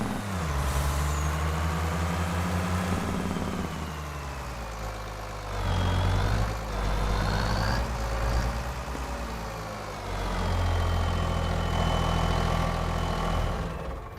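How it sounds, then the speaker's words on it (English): A slow-turning truck in Farming Simulator 25 rumbles with a low diesel engine drone, its revs rising and falling in several swells with a faint hiss on top, steady and close with no talking. "I don't know why I drove this truck all the way around here."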